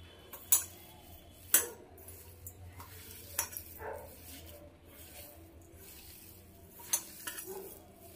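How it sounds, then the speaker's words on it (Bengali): Drumstick flower batter is mixed and pressed by hand in a bowl, soft squelching and rubbing with several sharp clinks against the bowl, fairly quiet and close, with no talking. "ভালো করে কিন্তু চেপে চেপে মেখে নিতে হবে।"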